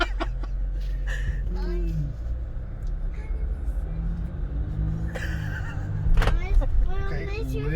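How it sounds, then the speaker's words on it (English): 2021 Jeep Wrangler Unlimited Rubicon EcoDiesel engine giving a low diesel rumble at idle under a steady hum, with people talking over it throughout. "a little bit of a diesel rumble"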